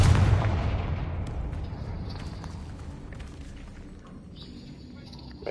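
A Confringo fire spell explodes in the Hogwarts Legacy video game, a loud booming burst at the start whose rumble slowly decays over several seconds, with a small new impact at the very end.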